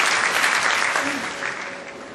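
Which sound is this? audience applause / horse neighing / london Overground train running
audience applause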